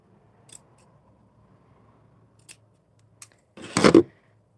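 A few quiet snips of scissors cutting a mask, then a louder close burst of cutting or rustling near the end, over a faint low background hum.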